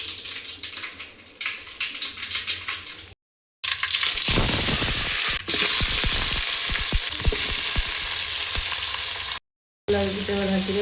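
Cumin, mustard seeds and fresh curry leaves sizzle in hot oil, a loud close crackle and spatter with sharp pops and stirring, cut by two short silent breaks.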